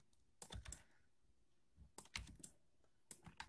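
Quick bursts of computer keyboard key presses and mouse clicks while modeling a bus exterior in Blender 2.75a, arriving in three short clusters of close, crisp taps separated by brief pauses.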